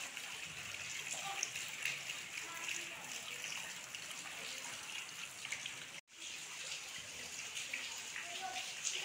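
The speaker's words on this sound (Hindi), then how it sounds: "बहुत प्यारी बारिश हो रही है" Steady rain patters and splashes nearby, a continuous wet hiss with a brief cut in the middle, then the downpour resumes unchanged.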